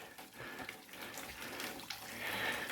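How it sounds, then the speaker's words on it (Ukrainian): Water runs from a natural spring in Kremenets, a close, continuous splashing trickle like a stream pouring into a trough, steady and fairly quiet with no voices. "Це джерело має дуже чисту водичку"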